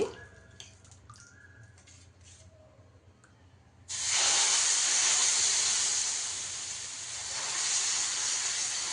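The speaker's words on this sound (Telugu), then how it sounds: "ఇప్పుడు దోశ వేసేస్తాం మనము. పిండి బాగా కలుపుకొని వేసుకోవాలండి దోశ" Jowar dosa batter hitting a hot pan sets off a loud, steady sizzle that begins abruptly after some quiet kitchen clinks and continues strongly, swelling slightly toward the end.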